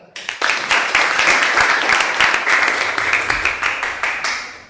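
A classroom of students claps in a brief, loud burst, individual hand claps standing out sharply before the applause thins and fades toward the end.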